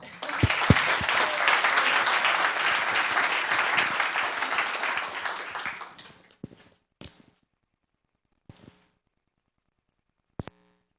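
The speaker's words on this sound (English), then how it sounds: "Let's have a round of applause." An audience at a town council meeting applauds, a dense, steady round of clapping that lasts about six seconds and then fades out, with a few scattered claps and small noises afterward.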